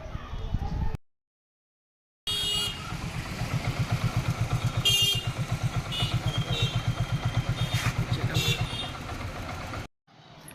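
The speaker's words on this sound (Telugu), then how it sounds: "దీని ఇంజన్ బీటింగ్ అయితే ఒకసారి అయితే గమనించండి ఎలా ఉంది అన్నది మీరైతే." A Hero Glamour motorcycle engine idles after a rebuild, giving a steady, even beat that runs close and loud between brief cuts to silence, with light mechanical clatter on top.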